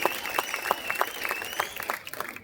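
An audience at a Tamilaga Vettri Kazhagam political speech claps enthusiastically, a dense, sustained burst of applause close by and without talk.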